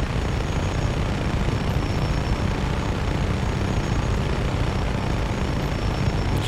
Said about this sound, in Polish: Jest tu co prawda helikopter jakiś.